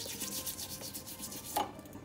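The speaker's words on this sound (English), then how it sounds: "I'm gonna kind of clean up all the gunk that's around here so that things fit more tightly." Gunk is scraped off Moen faucet cartridge parts in soft, repeated rubbing strokes close up, with one sharper scrape near the end.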